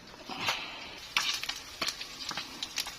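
Soft crackling and sizzling of galunggong (round scad) fish frying in oil, with scattered sharp pops and spatters over a low steady hiss, fairly close.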